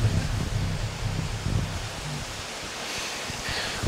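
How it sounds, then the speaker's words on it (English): Distant river water flows in a Himalayan valley among boulders, a faint, steady wash of broadband noise with no voices. "It might be the river in the valley, but I can hear water again."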